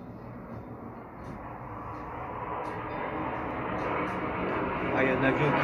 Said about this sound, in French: il y a un avion qui gêne un peu